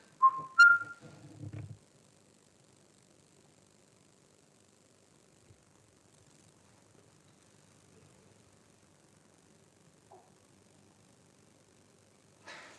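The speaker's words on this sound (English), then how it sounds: "Can you make that whistling sound again?" A sharp whistling rises near a farm doorway in a brief burst of two pitched notes at the start, then near silence with a faint short whistle later and another at the very end.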